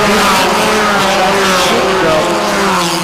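Race cars from a national racing championship circuit roar steadily around a rain-soaked track under safety-car conditions, a loud continuous engine drone with layered harmonic tones and spray hiss, no voices.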